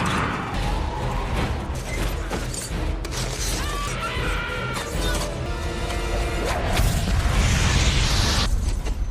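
Nitroglycerin explodes beside a cliff face in a film scene, a loud, dense blast with crashing debris and rumble sustained across the whole stretch amid busy soundtrack noise.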